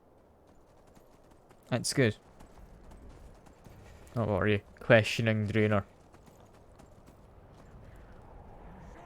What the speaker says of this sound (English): it's nice to be able to just go around on a horse